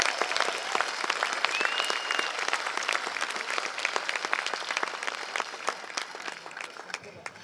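A community gathering crowd claps steadily and densely for several seconds, loud and close, tapering slightly near the end.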